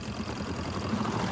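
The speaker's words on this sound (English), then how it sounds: "that's the spin cycle" Steady mechanical hum of a Pyle portable 2-in-1 washing machine on its spin cycle, a continuous close whirring drone.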